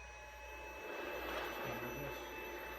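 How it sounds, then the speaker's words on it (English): An AL960B lathe spindle runs on the slow pulley at about 420 RPM, making a faint, steady mechanical drone with a constant whine and no talk over it. "we should be getting 420 RPMs at the spindle at full speed"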